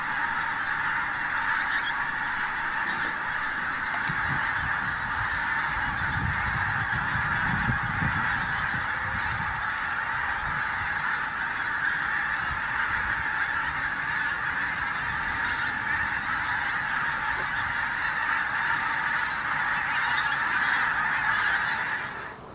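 A large flock of geese honks continuously in the distance at Martin Mere Wetlands, a dense steady chorus with occasional nearer calls, no voices.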